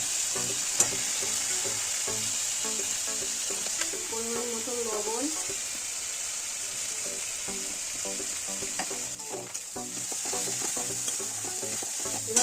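Spice paste with turmeric sizzling in a pan for a Bengali-style pomfret fish curry, a steady hiss with irregular scraping and stirring clatter, close and moderately quiet.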